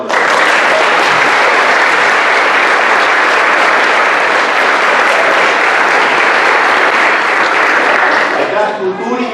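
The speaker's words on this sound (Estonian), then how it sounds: "Aplaus saanud." An audience at a school Christmas concert in a culture centre breaks into loud, sustained applause, a dense wash of clapping that holds for several seconds before tapering off at the end.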